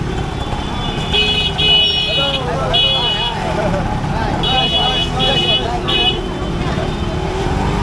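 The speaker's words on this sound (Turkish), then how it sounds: "Trafiğe bak abi, trafiğe." Busy street traffic in Ahmedabad, with a dense mix of motorbikes and cars rumbling close by. Repeated horn toots break through, and voices talk over the steady roar.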